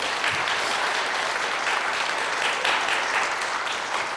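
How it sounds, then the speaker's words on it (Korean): A church congregation claps together in a steady, dense wash of applause, sustained and fairly close for the whole stretch, without speech over it. "박수로 영광 하나님께."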